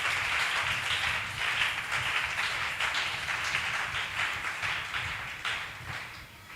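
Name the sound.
church congregation applauding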